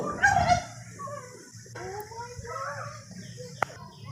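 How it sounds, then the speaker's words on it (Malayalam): A turkey gobbles in a quick, warbling burst up close on a fish farm in Idukki, Kerala, followed by softer bird calls against a low background murmur. "നമ്മുടെ ടർക്കിക്കോഴി അതിൻ്റെ വെള്ളയും കറുപ്പും പല കളറുകളുമുണ്ട് ഇവിടെ"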